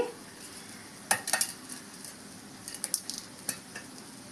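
Cumin seeds frying in a small amount of oil in a pan, a soft steady sizzle with a few light clinks of a spoon stirring, quiet and close with no talking.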